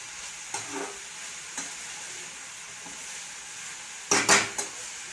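Green chillies frying in a hot pan, a soft sizzle with a few quick metal spatula scrapes and stirs, the loudest clatter near the end.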